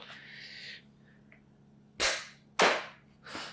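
Novritsch airsoft sniper rifle, an SSG10 A1 or upgraded SSG24, firing outdoors: a faint beep, then three sharp snapping shots, the first two close together and the third softer, with no talk.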